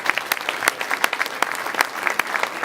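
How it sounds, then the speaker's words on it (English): Audience applause for a student athlete at a school recognition event, a sparse, steady patter of individual hand claps from a modest crowd, fairly close and continuous throughout. "that's a round of applause right there"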